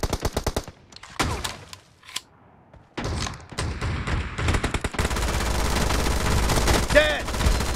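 Gunfire in the mobile battle royale game PUBG Mobile: rapid bursts of automatic shots and single cracks, loud and close, broken by short pauses, then a continuous roar of firing and action noise toward the end.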